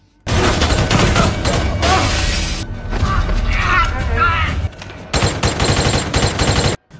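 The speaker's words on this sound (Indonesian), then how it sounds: "dari sinilah baku tembak pun terjadi di tempat tersebut" An action-film shootout erupts in dense bursts of automatic gunfire and mechanical clatter, loud and continuous with a few brief breaks between volleys.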